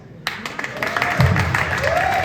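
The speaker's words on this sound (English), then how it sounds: "yes, pause for applause." Audience applause at a Hollywood theater event, a burst of clapping and cheering that rises and swells, with a voice speaking over it.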